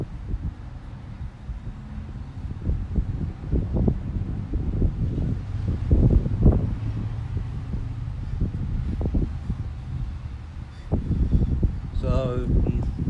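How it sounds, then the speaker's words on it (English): Gusty outdoor wind buffets the microphone, producing low rumbling thumps and steady roar throughout, with someone talking over it. "But man, the wind."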